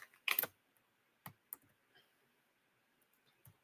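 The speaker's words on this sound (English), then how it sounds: "All right, so I'm typing it into the chat." Quiet, close typing on a computer keyboard as a message goes into a chat: a few scattered key clicks with long gaps, one short burst near the start, and no talk.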